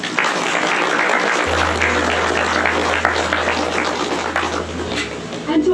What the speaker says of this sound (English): Let's give the bridal party a huge round of applause